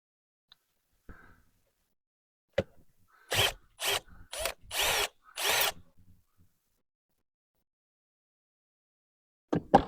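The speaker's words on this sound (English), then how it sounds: "So you want to loosen this 10mm screw. You can use a 10mm socket or Phillips head screwdriver." A 10mm screw on a Toyota Auris air filter housing is loosened in a quiet setting: a run of five short, loud whirring bursts close together, framed by a few isolated clicks and knocks.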